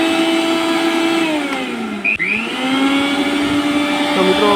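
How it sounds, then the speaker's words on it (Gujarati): A mixer grinder that kept shutting off runs after its reset switch is pressed, its motor whining loudly and steadily close by, with the pitch dipping and rising again midway. "જુઓ મિત્રો, ચાલુ મિક્સર થઈ ગયું।"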